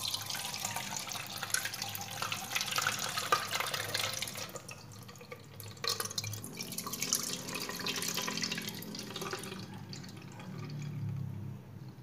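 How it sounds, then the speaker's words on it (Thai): Water from a fragrant young coconut is poured through a kitchen strainer. It makes a steady, close splashing trickle that runs for several seconds, eases briefly in the middle, then picks up again with drips near the end. "ขั้นตอนต่อไปนะครับก็ทำมากรองน้ำกัน"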